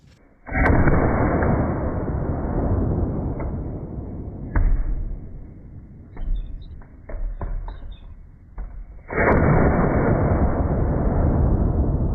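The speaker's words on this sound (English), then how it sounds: "So we're going to have 3 cannon firings, the last of which should be pretty substantial." Cannon fired three times, each a loud booming blast with a long rumbling tail, the first near the start, a smaller volley of bursts in the middle and a final heavy, sustained shot near the end.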